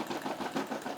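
Brother SE600 embroidery machine stitching, a quick rhythmic mechanical chatter of the needle, steady and fairly quiet over a moment.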